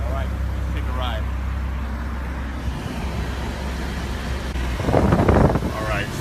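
A Ferrari convertible rolls off with its top down, a low engine rumble and road noise under wind buffeting, with a brief louder surge of passing traffic near the end and a few voice fragments.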